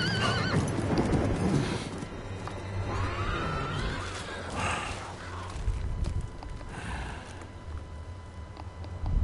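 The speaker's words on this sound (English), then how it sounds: "Oh, my horse is running now." A horse in the video game Diablo 4 runs with steady clip-clop hoofbeats and neighs and whinnies, over a dense, continuous game soundscape with no talk.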